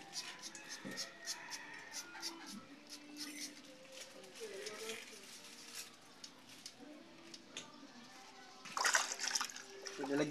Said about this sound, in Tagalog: Tapos i-spray natin ng tubig